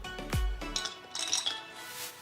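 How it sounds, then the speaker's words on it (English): Ice cubes drop into sweetened milk for a watermelon sharbat, giving one sharp clunk, then several bright glassy clinks and rattles that fade out. "Then we'll add few ice cubes."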